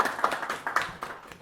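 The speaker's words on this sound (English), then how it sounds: "Let's give them a clap." A small audience at a small-press comics panel claps briefly for the organisers, a scattered burst of hand claps that is fairly faint and thins out after about a second and a half.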